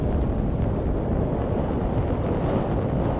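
Delta IV rocket engines roaring seconds into launch, heard as a dense, continuous low rumble with wind-like buffeting, loud and steady from start to finish with no voices.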